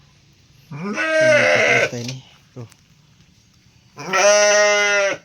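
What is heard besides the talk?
Garut goat bleating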